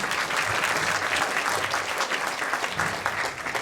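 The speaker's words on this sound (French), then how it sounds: "On peut l'applaudir." Steady, full applause from a theatre audience of about 250 people, dense clapping that holds at an even level for a few seconds.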